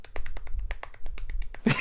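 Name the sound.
tiny clapping sound effect in Phoenix Wright Ace Attorney video game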